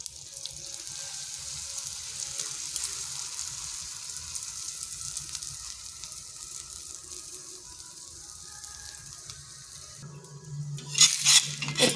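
A paratha fries in oil on a tawa over medium heat, giving a steady, soft sizzle that continues throughout, with a brief louder clatter near the end.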